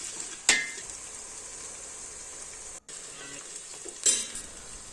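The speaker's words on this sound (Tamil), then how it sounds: "அப்பப்போ இது மாதிரி நல்லா கிண்டிக்கோங்க." Sliced onions and green chillies frying in ghee and oil for a chicken biryani, giving a steady close sizzle throughout, with a few louder scraping clinks of a spoon stirring the pan and no talk.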